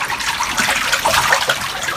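Water trickles and splashes steadily as a hybrid catfish pond's water is changed on a farm, a continuous close, moderately loud flow with no voices.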